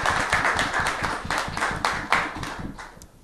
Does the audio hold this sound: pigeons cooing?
no